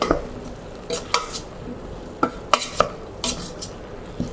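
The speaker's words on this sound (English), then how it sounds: "And I'm going to give that a stir." Veg stock, peppers and garlic are stirred in a pan, with a utensil scraping and knocking against the metal in a few distinct clacks over a low continuous sizzle.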